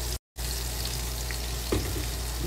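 Chickpeas, washed and dried, lightly toasting in a pan with salt, black pepper, paprika and Cajun spices give a steady close sizzle, with a brief gap near the start and a small clatter toward the end.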